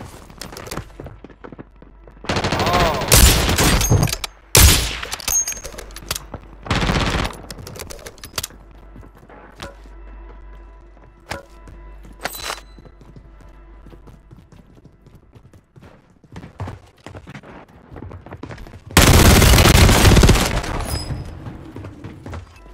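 Gunfire in a Resurgence battle royale video game, heard as loud broadband bursts of rapid automatic fire in several clusters, the heaviest near the start and again near the end, with sparser shots and game noise in between.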